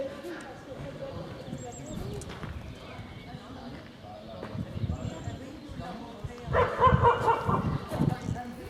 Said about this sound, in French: Et un chien qui se manifeste.